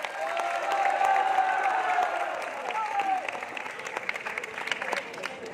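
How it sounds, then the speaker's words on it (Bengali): Applause from a school audience at the prize giving of an annual drill competition, a dense steady clatter of many hands that stays loud throughout, easing slightly toward the end, with some crowd noise mixed in. "জোরে জোরে হাততালি দাও সকলে মিলে"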